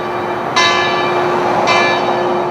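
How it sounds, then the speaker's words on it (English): Two strikes of a church bell ring out at a Grants Pass evening vigil for domestic violence awareness, each followed by a long, bright, ringing decay over a steady hum. "The church bells are ringing 46 times in Grants Pass Thursday night."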